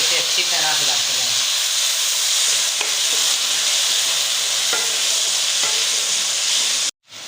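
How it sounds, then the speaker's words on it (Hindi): Onions, tomatoes and green chillies for Pakistani aloo gosht fry with a loud, close, continuous sizzle and hiss in a pot, with occasional scraping stirs, and then the sound briefly drops out near the end. "अब हम इसमें 2 अदद टमाटर और 3-4 सब्ज़ मिर्चें ऐड कर लेंगे और इसे अच्छी तरह हिलाते हैं।"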